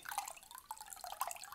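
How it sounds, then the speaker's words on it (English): A makeup beauty blender sponge is soaked in cold water, producing soft, close-up drips and small splashes of water. The sounds are quiet and intimate, with no speech. "We're just going to grab your beauty blender and we're going to soak it in some nice cold water"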